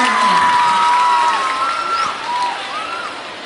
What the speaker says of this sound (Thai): ขอเสียงปรบมือต้อนรับพี่ม.6ที่มาเข้าสู่เวทีการแสดงนะคะ